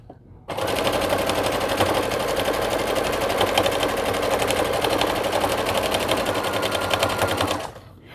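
A home sewing machine stitches a hooded towel in one steady run of about seven seconds, a loud dense rapid needle clatter that starts abruptly and stops cleanly, with no talking over it.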